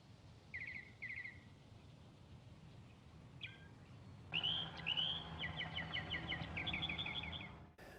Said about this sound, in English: the sound of crickets is replaced with the chirping of birds